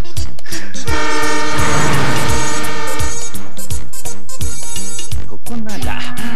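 A train runs through an Ultraman anime scene with a loud, continuous horn over rhythmic clacking of the wheels, mixed with music and sound effects.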